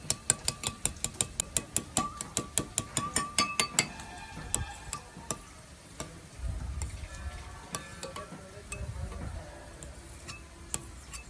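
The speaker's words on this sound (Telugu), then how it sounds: "ఐదు ఎగ్స్ని తీసుకొని దీన్ని బాగా కలుపుకోవాలి" Five beaten eggs whisked in a bowl for a drumstick-leaf egg fry: quick, evenly spaced clinks and taps for the first few seconds, then looser, irregular stirring with scattered knocks, close and moderately loud with no talking.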